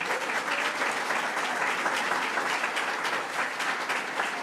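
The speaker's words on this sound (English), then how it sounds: "Let's give a huge round of applause to Joe Cotter." A large crowd applauds steadily at a New York Governor Kathy Hochul public event, dense clapping sustained evenly throughout with no voices standing out.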